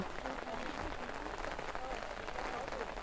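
Steady rain falls and patters on surfaces outdoors near a temple, a dense, continuous hiss at moderate loudness.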